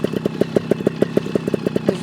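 A GasGas TXT 300 trials motorcycle warms up with the choke on, its two-stroke engine idling in a steady, rapid pulsing thump, close and moderately loud in a backyard setting, with no talking.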